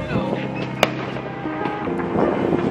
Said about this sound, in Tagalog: Daming fireworks dun, guys.